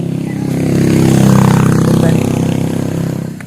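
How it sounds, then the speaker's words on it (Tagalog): A motorcycle engine revs up close, the roar swelling to a peak and then easing off again over a few seconds, with a faint metallic clatter underneath. "Kani guys nga motor."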